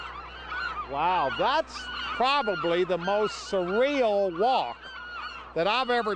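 A western gull colony on the Farallon Islands off California calls from all around a pathway, loud honking cries with rising and falling wails repeating in quick bursts while someone talks over them.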